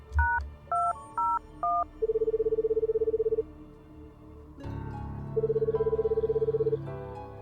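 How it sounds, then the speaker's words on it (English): Dialing tones beep out a room number on a phone in a mystery video game, followed by repeated electronic ringing bursts that go unanswered, with a soft background underneath. "I called Jacob's room."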